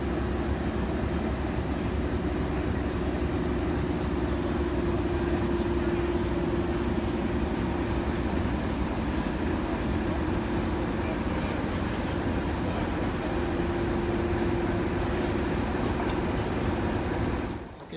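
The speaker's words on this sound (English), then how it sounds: "They were going to haul the next train as a double header." Heritage railway locomotives haul a train as a double header on the Northampton and Lamport Railway, a continuous loud rumble with a steady droning tone and faint rail clatter throughout.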